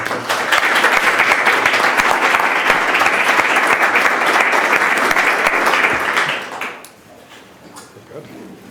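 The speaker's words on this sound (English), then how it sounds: "let's give a round of applause to Mark" Seminar audience applauding at the close of a learning analytics session, dense steady clapping for about six seconds that then fades, leaving quiet room noise.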